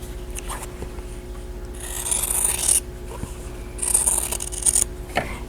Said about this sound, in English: I'm going to cut it apart on the drawn line.